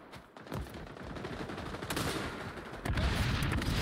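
Rapid bursts of gunfire in the shooter game XDefiant, dense overlapping shots rattling continuously and growing louder near the end, with no talk.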